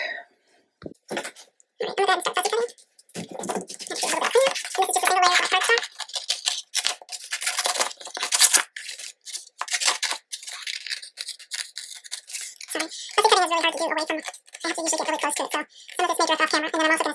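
Scissors trimming paper edges for a mini album, a series of close crisp snips and rustling paper in uneven bursts, with a person talking quietly in between.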